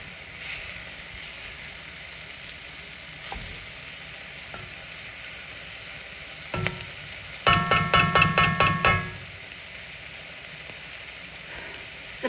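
Sausage browning in an oiled pan, a soft steady sizzle with a few scattered clicks and a short run of rapid crackling pops in the middle.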